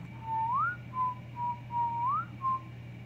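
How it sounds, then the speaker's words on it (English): Melodic whistling by a person, a few short rising and steady tones in separate phrases, close and clear over a low steady hum. "I was whistling like that and her eyes were closing"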